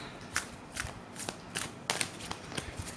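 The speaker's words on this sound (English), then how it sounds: "Right, I'm going to shuffle." A deck of unicorn oracle cards is shuffled by hand. The quiet, close riffles and flicks come in a steady, repeating rhythm of short crisp bursts, with no voice over them.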